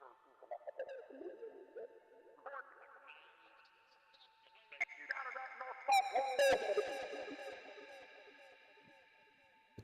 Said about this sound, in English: The distortion is kind of crazy.